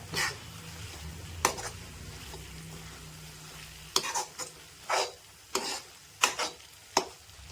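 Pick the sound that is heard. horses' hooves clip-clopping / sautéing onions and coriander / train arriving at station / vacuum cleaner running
sautéing onions and coriander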